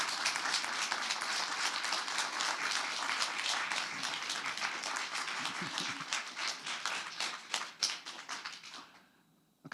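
Audience applause after an inaugural university lecture, a dense sustained clapping from a crowd that thins into scattered claps and fades out near the end.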